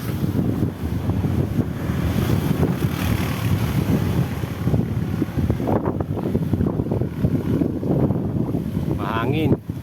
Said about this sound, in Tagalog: Mas mahangin pa.